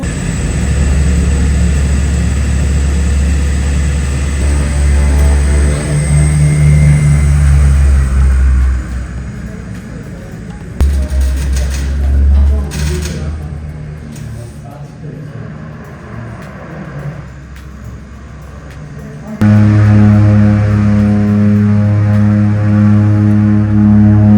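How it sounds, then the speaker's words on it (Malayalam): A Tara Air plane arriving at Lukla airport in the Himalayas gives a loud, steady engine roar and rumble that fades midway, then rises again to a strong droning hum. "അങ്ങനെ നമ്മുടെ ഫ്ലൈറ്റ് വന്നിരിക്കുന്നു"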